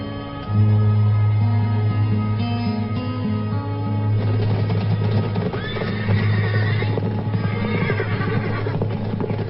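Horses whinny and neigh over a steady low rumble, with a loud, busy stretch of overlapping calls in the second half.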